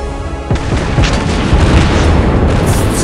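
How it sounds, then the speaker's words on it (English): A loud in-game explosion booms in a video game, followed by a sustained rumbling blast tail, close and heavy with no talk over it. "That explosion is terrible."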